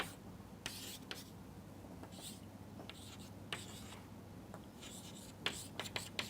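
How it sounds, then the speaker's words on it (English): Chalk or marker scratches across a board in short strokes and taps during a mathematics lecture, quiet and close, with a low steady room hum underneath. "I will write it here."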